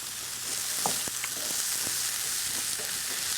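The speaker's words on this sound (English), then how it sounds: "you want it bubbling, so it's bubbling and cooking, but not bursting and splattering you" Tarka dahl simmering in a pan on a gas stove gives a steady, soft bubbling sizzle with scattered faint pops, continuous and fairly close, with no talking.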